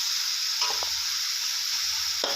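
Papaya and egg stir-fried in a pan, with a steady sizzle and a few soft scrapes of a spatula or spoon turning the food, heard close with no talking.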